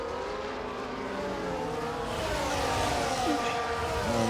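A Haas Formula 1 car in a racing game at Jeddah roars past with a steady, rising engine drone that swells toward the end, mixed with other car engines.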